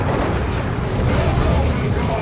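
Whirlwind artillery fires in a Dawn of War 2 battle as a dense, continuous rumble of booms and blasts. The sound is loud and close, with no clear gaps between the shots.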